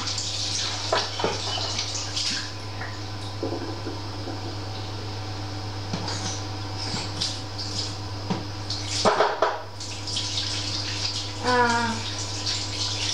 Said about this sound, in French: Je vais juste me laver les mains.